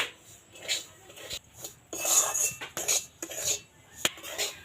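A utensil stirs and scrapes dry semolina (suji) around a pan while it is roasted for laddu, making close, irregular scraping and rubbing strokes with a few sharper clinks against the metal, with no voice over it.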